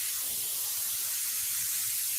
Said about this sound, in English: Airbrushing a bit of the tongue.